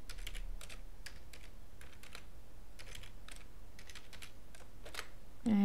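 Fingers type a password on a computer keyboard in a steady run of quick clicking keystrokes, close and even, with no talking, while filling out an account sign-up form.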